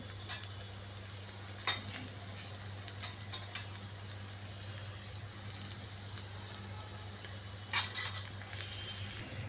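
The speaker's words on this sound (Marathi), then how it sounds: "तर आपण इथं एका कढईमध्ये आपण तेल तापत ठेवलेलं आहे. तेल छान तापू दे. कांदा लाल झालेला आहे. आता यामध्ये आपण हळद टाकूया" Onion and turmeric frying in hot oil in a kadhai, a faint, steady sizzle under a low hum, with a few light spoon clinks against the pan and no talk.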